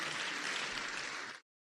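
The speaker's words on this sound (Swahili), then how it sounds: "Pigia Dr. Korir makofi." Dense audience applause for Dr. Korir at a religious leaders' HIV sensitization meeting, steady clapping that cuts off abruptly.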